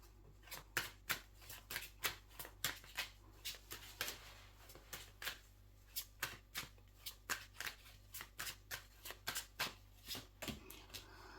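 Tarot or oracle cards being shuffled by hand, a quick run of soft riffling flicks and papery slaps in steady bursts, close and fairly quiet, with no talking.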